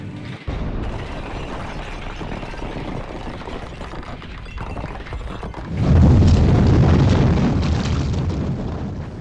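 Bombs falling on Japanese cities during a 1945 WWII firebombing raid, a continuous loud rumbling roar that swells into a heavier, deeper surge of blasts partway through, with no voices.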